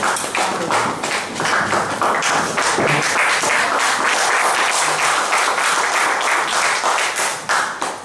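A church congregation breaks into loud, sustained applause, many hands clapping densely and close for several seconds before it begins to thin out at the end.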